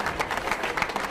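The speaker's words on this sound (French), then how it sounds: "Vos applaudissements pour le podium du jour." Crowd applause for the day's podium finishers at a cycling race awards ceremony, a short burst of loud, dense clapping close by with no talking.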